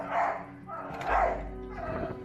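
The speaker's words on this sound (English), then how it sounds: "Their dog Saffron doesn't like the doll at all" Dog barking at a doll, a few close, fairly loud woofs and yips spaced across about two seconds, with a low rumble underneath.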